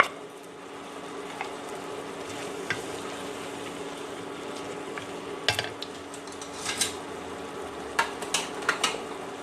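A spoon stirs jackfruit seed curry with fresh coriander in a pan, gentle sizzling underneath and occasional sharp scrapes and clinks of utensil against metal, close and steady.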